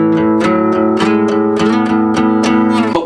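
Electric guitar playing a riff: a steady stream of evenly picked notes with a driving, repeated pulse, loud and close, with no talking over it.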